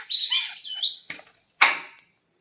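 Two small birds chirp at a house window, giving a few quick bright tweets and trills close by, then a sharper call after a short pause, with quiet between them.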